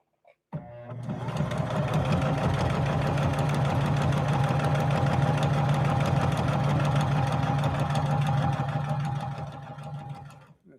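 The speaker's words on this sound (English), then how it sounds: "All right, here goes our EKG style stitch." A Juki HZL-353ZR-C sewing machine runs an EKG style stitch, a loud, steady mechanical whirr with rapid needle clatter that starts abruptly and holds for about nine seconds before winding down, close up with no talking.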